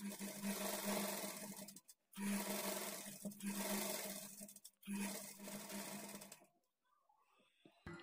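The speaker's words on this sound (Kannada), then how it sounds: "ಈಗ ಇದನ್ನು ಈ ಥರ ತಿರುಗಿಸ್ಕೊಂಡು ಇದ್ರ ಮೇಲೇ ಡಬಲ್ ಸ್ಟಿಚ್ ಹಾಕೊಳ್ತಾ ಬರಬೇಕು" A sewing machine runs a double stitch along a lining blouse in three loud bursts of rapid whirring stitching, separated by short pauses, ending with quieter handling of the fabric.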